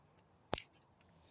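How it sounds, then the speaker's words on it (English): Scissors snipping a lime or lemon stem at an angle for a cutting, one sharp close snip followed by a couple of faint softer clicks of the blades, in an otherwise quiet setting. "We make sure we cut at an angle"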